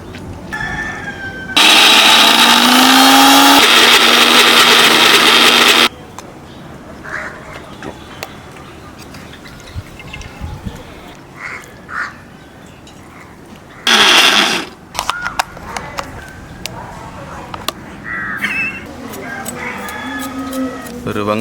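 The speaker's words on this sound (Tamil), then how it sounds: "இப்போ வந்து உளுந்து அரைச்சு எடுப்போம்." Mixer grinder grinding soaked urad dal for vada batter, with a loud, harsh whirring motor burst lasting about four seconds and a shorter burst later, among clatter and quieter kitchen handling sounds.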